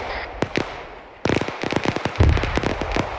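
Frag grenade blasts in the Arma 3 military shooter, a couple of sharp pops early, then a dense run of cracking bursts and thumps, loud and close, with no voices over them.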